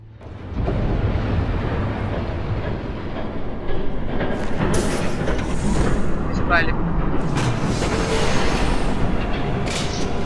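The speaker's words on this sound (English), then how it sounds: "There's a train coming. Take cover." Train rumbling past in a Batman video game, a steady broadband roar throughout with faint metallic squeals and clatter over it, game voices talking beneath the noise.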